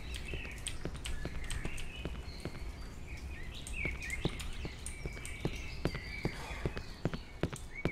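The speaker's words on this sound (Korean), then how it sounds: "그렇지, 이 새소리." Birdsong chirps in the Cry of Fear horror video game, a steady scatter of small calls over clopping footsteps and faint ambient noise, with no talk.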